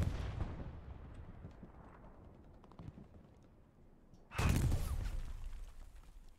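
An explosion in the World War II shooter Hell Let Loose, a sudden loud blast erupting after several seconds of quieter distant battle rumble and scattered shots, then fading.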